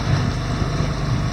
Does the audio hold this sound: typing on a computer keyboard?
no